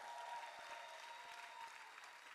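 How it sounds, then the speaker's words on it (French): Faint, distant audience applause for a lady's birthday at a festival comedy show, a steady soft clapping wash with no talk over it. "On applaudit s'il vous plaît pour cette dame."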